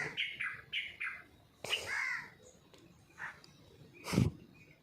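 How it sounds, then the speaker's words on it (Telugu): Several bird calls in short bursts, chirps and squawks at varying distances with quiet gaps between, ending in a louder harsh call. "పక్షులు వాటి భాషలో అవి అరుస్తూనే ఉన్నాయి"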